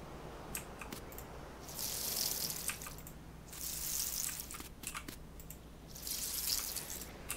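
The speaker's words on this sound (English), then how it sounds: "I can actually water my plants." In the farming video game Dinkum, a watering can pours onto plants in three separate hissing, splashing bursts, each a couple of seconds long, with quiet gaps and faint ticks between them.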